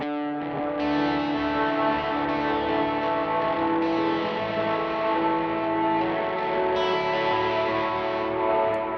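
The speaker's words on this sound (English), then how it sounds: "I kick on my second stage overdrive and I start kind of picking through it" Overdriven electric guitar on a second-stage overdrive, picked continuously with a thick, distorted sustain and notes ringing together, loud and alone.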